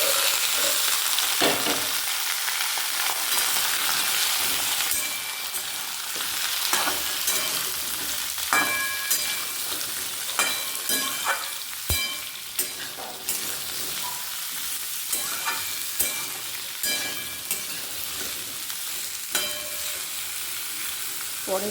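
Vegetables and garlic fry in hot oil while being stirred, for a Bengali dried-fish (shutki) dish, giving a loud continuous sizzle broken by scraping and clacking of the utensil against the pan, with no talk.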